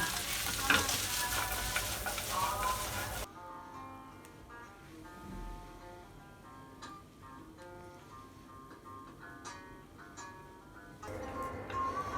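Fettuccine sizzles and crackles as it is stir-fried in a pan with sun-dried tomato sauce and cheese, lightly caramelizing. A loud burst opens, then a steadier softer frying continues with occasional stirring clicks and faint tonal notes behind.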